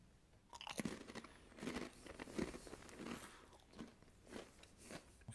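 Thin baked pretzel chips with sesame seeds being bitten and chewed up close, a series of sharp crunchy bites followed by softer repeated chewing crackles, no talking.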